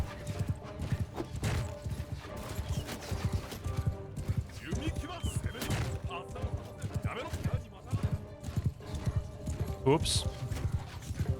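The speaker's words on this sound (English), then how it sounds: "That was a horse" Horse hooves clopping steadily in the video game Mount & Blade II: Bannerlord, a rhythmic run of hoofbeats mixed with clanking gear and game sounds, with a person talking briefly over it.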